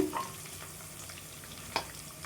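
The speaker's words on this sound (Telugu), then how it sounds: "ఇవి కూడా మంచిగా వేగాలండి. ఆనియన్ ఇది మనకి పచ్చిమిర్చి చూడండి, మనకి పచ్చిమిర్చి కూడా వేగిపోయింది." Sliced onions and green chillies frying in oil in a pan, a steady soft sizzle with an occasional stir, close and quiet.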